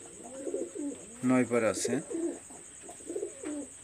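Pigeons coo nearby, an Oman Teddy and a female Kamagar, with soft repeated rolling coos in a rhythmic series, while someone speaks briefly over them.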